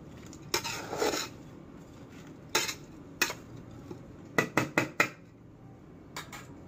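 Spices and mango pieces for pickle are stirred together in a pot with a spoon, giving sharp metallic scrapes and clinks in scattered bursts, some quick in succession, close up against a quiet background.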